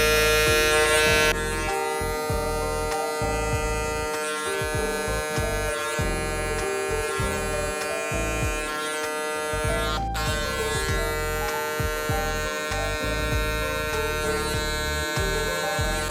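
Hair clippers with the lever fully closed, trimming the bottom line of a mid-high skin fade: a steady, close electric buzz with a faint rising and falling whir as the blade moves, continuous and unbroken, with no talking.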